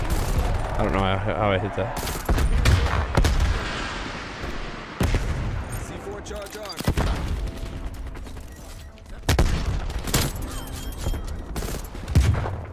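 Shotgun blasts in Call of Duty Cold War gameplay, several loud sharp reports spaced a few seconds apart amid in-game noise, with a player talking over them.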